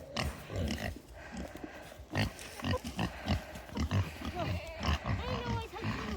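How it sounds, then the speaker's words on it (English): Little pigs grunting and snorting at feeding time on a farm, repeated close grunts in an uneven rhythm with people talking over them. "We'll feed the little pigs first."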